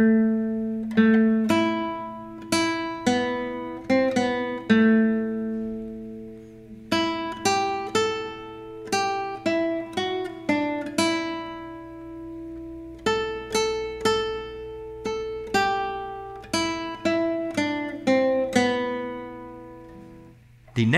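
A solo acoustic guitar plays the Scarborough Fair melody as single plucked notes in a slow, steady rhythm, each note ringing out clearly and close with no talking.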